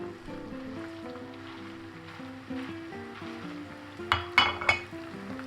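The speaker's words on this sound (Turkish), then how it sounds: "Yağımız ısındı. Kıymamızı veriyoruz arkadaşlar." Steady frying sizzle of minced meat in hot oil in a pan, with a few sharp clinks of a utensil against the pan near the end.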